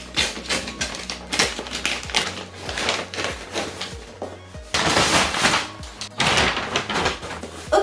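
White cardboard parcel box torn and opened up close, a string of sharp rustling, scraping and tearing noises in uneven bursts with short quieter gaps.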